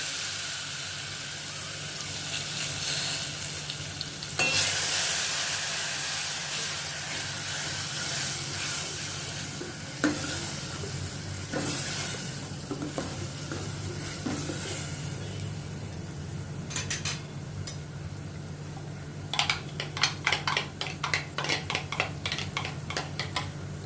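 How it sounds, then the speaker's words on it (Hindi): Crushed tomato frying in a pan, a soft steady sizzle and hiss broken by metal spoon scrapes and clinks against the pan, close up, with a burst of louder sputtering spray near the end and no voices. "इसमें मैं 1 टमाटर क्रश किया हुआ डालती हूँ।"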